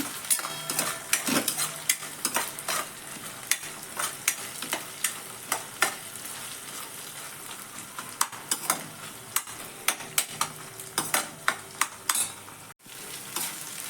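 Onion sautéing in a pan for stuffed ridge gourd bhaji, with a steady close sizzle broken by frequent sharp scrapes and clinks of a spatula stirring against the pan.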